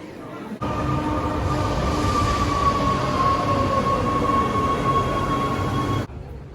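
A Rome subway train in motion, heard from inside the car as a steady loud rumble with a whining tone that holds for about five seconds, starting and stopping abruptly.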